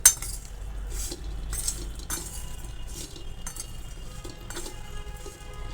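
A spoon stirs and clinks against a bowl while instant Idlimbu lemon pickle is mixed, giving repeated close, moderately loud scraping and clinking strokes with no talking.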